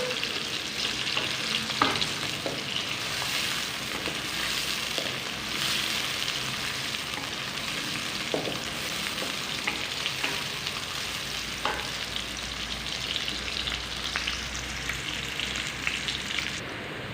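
Onions fry in a pan until light brown, a continuous close sizzle with scattered crackles and occasional stirring scrapes, no voices.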